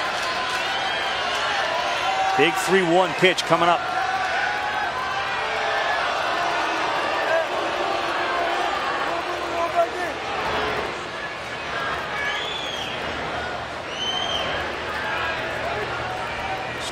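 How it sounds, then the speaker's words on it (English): Baseball fans cheer for the Louisville Cardinals at a college baseball game, Florida vs. Louisville at the 2017 College World Series. A broad, steady crowd roar runs throughout beneath a commentator's voice. "Cardinals fans getting red in the face cheering on their team."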